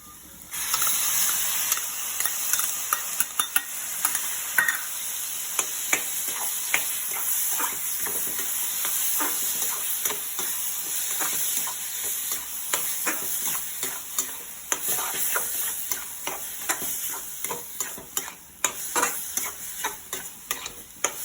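Spice paste with turmeric fries with a constant sizzling hiss while a utensil stirs and scrapes the pan in irregular strokes.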